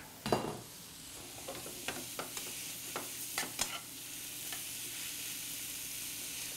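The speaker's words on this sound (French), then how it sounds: "Et je fais vraiment attention, pas trop, y aller vigoureusement pour brasser" Vegetables sautéing in a pan give a soft, steady sizzle, broken by a handful of light scraping knocks as they are stirred, faint and close with no voices.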